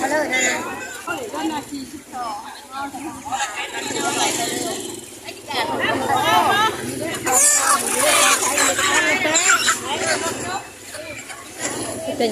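Roosters crow and chickens and ducks cluck amid loud, busy crowd chatter at a large market in Thailand, close and constant throughout.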